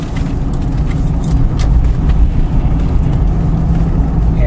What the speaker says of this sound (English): we're going to take a real sharp turn here